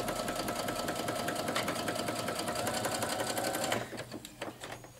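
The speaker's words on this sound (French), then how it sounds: "Et là, je commence à coudre et je remonte vers le haut." A sewing machine stitches a dart on a skirt, running steadily and close for several seconds, then stopping abruptly, leaving a few faint clicks.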